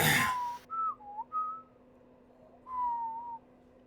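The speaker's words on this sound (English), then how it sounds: "he'll be using the whistle while he's thinking" A person whistles a few short rising and falling notes, a pause, then one longer sustained note, fairly clear against a quiet room with a low steady hum.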